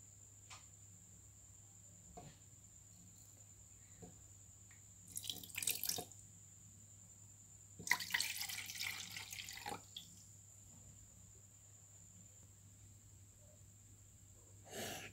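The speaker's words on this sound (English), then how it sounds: "Now I'm going to pour the water in the measuring cup." Water is poured into a measuring cup in two short splashing bursts against a quiet background with a steady high hum, with faint drips in between.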